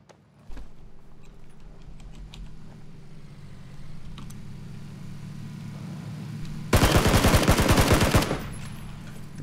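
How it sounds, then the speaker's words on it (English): Gunfire in the video game PUBG: scattered distant pops over a steady low rumble, then a loud rapid burst of automatic shots near the end, with no talking. "Let's go towards the gunshots."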